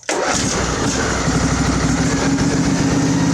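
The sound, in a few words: Craftsman riding mower engine revving with throttle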